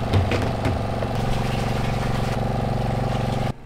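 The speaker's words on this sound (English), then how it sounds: "I have this motor run through a wireless switch." A wireless-switched electric motor drives a chemical pump filling the tank of a spray drone in a field test, running as a steady, fairly loud mechanical hum that continues alone and then cuts off near the end.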